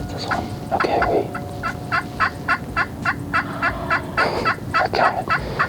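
Several wild turkeys gobble in answer during a spring bow hunt, a rapid series of loud, close gobbles that overlap and repeat in rhythmic bursts.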